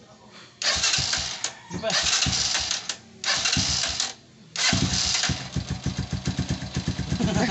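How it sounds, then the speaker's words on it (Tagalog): A motorcycle engine is cranked in a few short bursts, then catches and settles into a rhythmic, puttering idle. A voice speaks briefly near the start. "Galing mo na mag-start ng motor."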